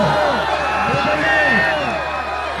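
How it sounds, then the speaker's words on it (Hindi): A crowd at a volleyball match claps and cheers in a steady, dense roar, loud and close, while a commentator speaks over it. "यहां तालियां बजाएं खिलाड़ियों के लिए"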